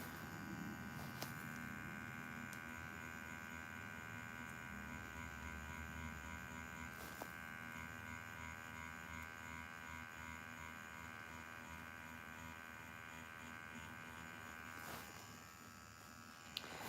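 A tattoo machine buzzes steadily up close, a constant electric whine with a few short clicks and shifts and no talking.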